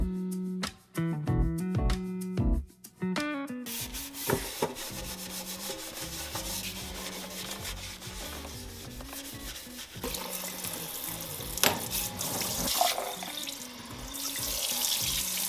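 A sink is scrubbed with limes and baking soda, with a steady rubbing and grinding at close range, and then running tap water rinses the basin in a continuous splashing rush.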